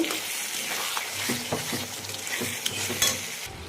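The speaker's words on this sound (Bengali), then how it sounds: "আচ্ছা, এবার আমি ভাজা চিংড়ি মাছগুলোকে দিয়ে দিলাম, একটু ভালো করে কষিয়ে নেব।" Fried prawns are stirred and sautéed in a hot pan with a crackling sizzle, quick scraping strokes and light metal clinks, all close and loud, with no talking.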